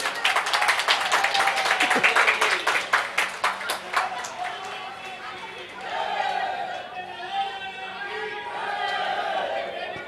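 A crowd at a devotional gathering claps loudly and rapidly in a dense burst for several seconds, then the applause thins out into scattered claps and murmuring chatter.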